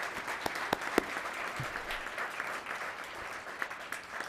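Applause at a town council meeting: a steady patter of clapping from a modest crowd in a meeting chamber, moderately distant and even throughout, with a few louder individual claps standing out.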